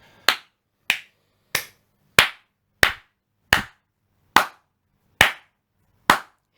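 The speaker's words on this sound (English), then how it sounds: "sorry, I had to just get that last clap in." One person claps alone, nine sharp, close, loud single claps spaced about two-thirds of a second apart in an otherwise quiet room.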